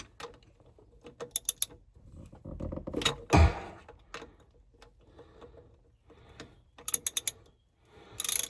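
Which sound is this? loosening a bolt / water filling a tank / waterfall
loosening a bolt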